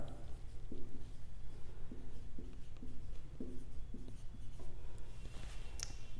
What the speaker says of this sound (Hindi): तो सेकंड का सॉल्यूशन मैं यहां लिख रहा हूं